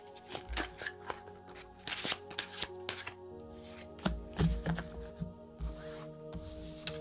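Tarot clarifier cards being handled and shuffled, with a series of crisp, papery riffles and slaps, close and fairly quiet, under a faint steady background tone.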